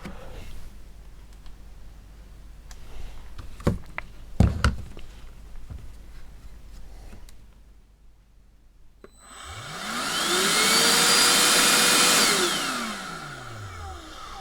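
A cordless handheld vacuum cleaner with a newly replaced lithium-ion battery whirs up loud and close after a quiet stretch of clicks and handling, motor pitch rising, holding steady, then winding down.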